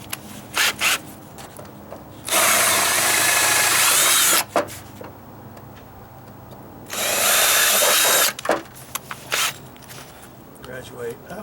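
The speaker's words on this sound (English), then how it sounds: "drill and just make that hole bigger." Power drill with a 3/16 bit enlarging a hole in a wooden deck, heard as two sustained whirring bursts of about two seconds each, loud and close, with lighter handling noises between and around them.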